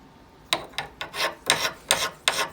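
Rhythmic rasping strokes of a sharpening stone across a carving axe bevel on a KME axe sharpening kit, about seven firm close passes, each a gritty scrape with brief pauses between.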